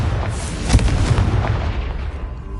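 Confringo blasting spell from Hogwarts Legacy goes off as a deep, booming explosion with a rumbling low end that fades out over a couple of seconds.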